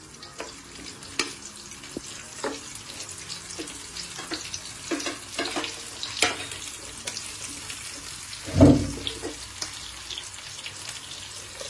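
Onion, capsicum and tomato fry in oil in a pan, a close, steady sizzle with intermittent stirring scrapes and clicks, and one louder clatter partway through, without talking.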